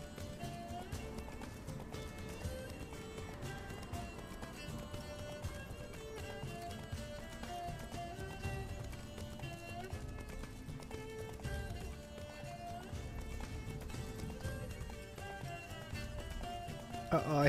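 Horse hooves clop in a steady galloping rhythm beneath continuous background music in The Witcher 3: Wild Hunt, fairly quiet and sustained throughout.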